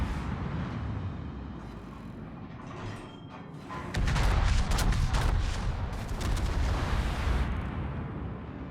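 The main guns of the French warship Patrie fire in a naval battle video game. A heavy, booming salvo breaks out midway and rumbles on over a constant roar of battle noise.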